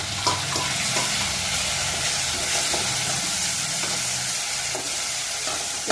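Onion and tomato with turmeric and salt fry in hot oil alongside curry leaves, ginger, garlic and green chillies, a steady close sizzle with occasional stirring scrapes throughout.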